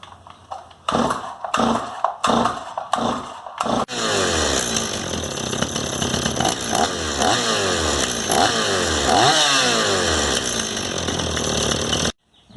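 A Stihl 026 chainsaw is pulled over several times in short bursts, then catches and runs loudly up close, its engine droning and revving steadily before cutting off.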